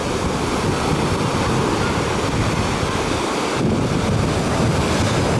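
Sea waves breaking on a beach in Alanya, Turkey, on a rough day: a steady, loud roar of surf mixed with wind buffeting the microphone, continuous throughout with no talking.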